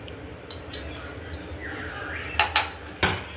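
Spoon clinking against a pan while mixing masala, turmeric and chilli powder, a few sharp metallic taps near the end over quiet background hiss.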